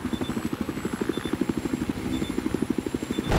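A helicopter in the Battlefield video game during a 32 vs 32 Obliteration match on Hainan Resort, a loud steady rotor chop with a rapid even thumping rhythm, heard alone throughout.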